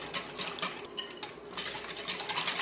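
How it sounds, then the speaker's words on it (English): A whisk beats chocolate cake batter in a bowl, rapid rhythmic metallic clinks and scrapes against the sides, close and lively with a brief lull midway. "I'm just gonna grab my whisk and just get all of this"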